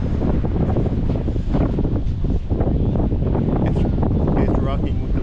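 Strong wind at Black Sand Beach in Vik, Iceland, buffeting the microphone in a constant loud roar with gusty swells, a voice faintly mixed in.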